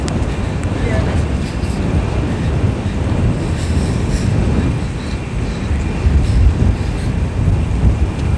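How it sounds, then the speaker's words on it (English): Wind gusts buffet the microphone in heavy rain on a downtown Calgary street during rush hour, a loud continuous roar with rising gusts near the end. "It's very cold and windy."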